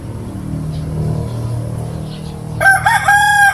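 A rooster crows once, loud and close, in the final second after a low engine-like hum fills the background.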